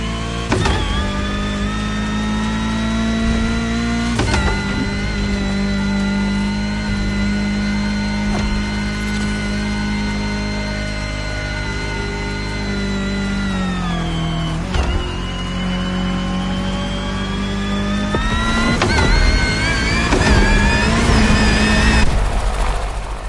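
A buggy's engine in The Crew Motorfest racing game drones steadily with a harmonic whine, dipping briefly around shifts or turns and swelling near the end, loud and continuous with no talk.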